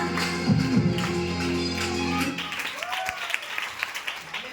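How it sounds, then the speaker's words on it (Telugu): Audience applause at a festive gathering with singing about the birth of Jesus: a loud burst of clapping at the start that carries on under lingering background voices, then fades into scattered claps and room noise. "అందరూ వాళ్ళ కోసం మరొకసారి చప్పట్లు కొడదాం."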